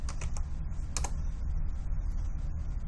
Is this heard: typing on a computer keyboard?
yes